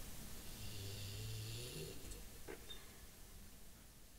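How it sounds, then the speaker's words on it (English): A dog snores softly nearby, a low rumbling breath drawn out for a couple of seconds, then quiet room noise. "my dog's snoring"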